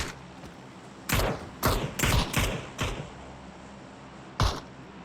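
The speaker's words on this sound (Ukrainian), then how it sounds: "Ну це він і стріляє." Six sharp gunshots in PUBG, a quick burst of five over two seconds then a lone shot after a pause, loud against a low background hum.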